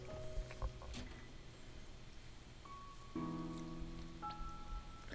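Rain in the To the Moon video game patters softly and steadily as a faint background wash beneath sustained synth tones and occasional soft taps.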